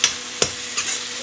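Food stirred and roasted in a pan: a few sharp scraping strokes of a spoon against the pan over a soft, steady sizzle, close and clear, with no voices.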